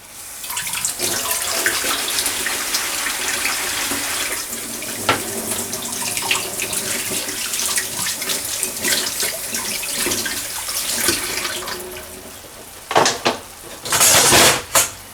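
Tap water runs steadily into a kitchen sink while dishes are washed, a continuous close splashing stream that ends with a few clinks and bursts of splashing.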